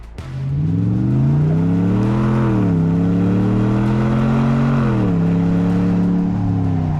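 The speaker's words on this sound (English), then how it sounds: "You all want to know what it sounds like, so here's a teaser with a Manta catback exhaust." A RAM 1500 pickup truck fitted with a Manta cat-back exhaust revs in a deep, loud burble, with the engine note rising and falling through two or three sustained throttle swells and no talking.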